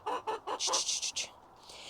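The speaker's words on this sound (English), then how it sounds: "because of the chickens telling me off as usual" Allotment chickens cluck and squawk close by in a quick series of about eight sharp, loud calls, some higher and more strident, with no talking over them.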